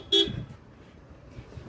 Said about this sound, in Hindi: और ये सामने से गाड़ी आ रही है